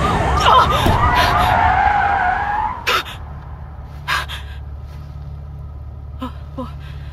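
Tyres screech loudly in a video game as a car, a green Lotus Elite chasing on the A31, skids for nearly three seconds, followed by a few sharp thuds and scattered impacts over a low engine drone.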